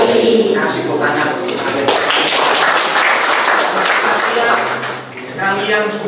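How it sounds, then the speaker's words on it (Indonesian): Students in a classroom give a sustained round of clapping lasting several seconds, with voices mixed in throughout. "Kasih tepuk tangan."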